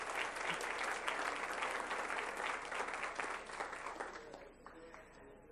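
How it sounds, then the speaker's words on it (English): Applause rings out at a school district board meeting for school sustainability award winners, a steady broadband clapping that fades slightly near the end. "we can go ahead and give them a round of applause"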